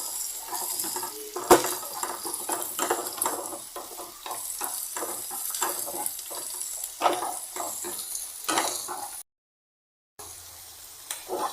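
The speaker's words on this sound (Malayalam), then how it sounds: "ഇഞ്ചിയുടെ ആ നിറമൊക്കെ ഒന്ന് മാറുന്നിടം വരെ നമ്മളതിനെ നന്നായിട്ട് അതിനെ ഇളക്കിക്കൊണ്ടിരിക്കണം." Ginger frying in a pan for beef ularthiyathu while being stirred repeatedly, close rhythmic scraping strokes over a constant sizzle, with a brief dropout of near silence before the stirring resumes.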